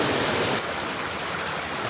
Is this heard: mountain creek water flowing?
yes